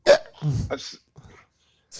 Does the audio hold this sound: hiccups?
yes